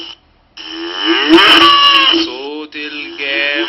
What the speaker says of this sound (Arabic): صوت الجاموسة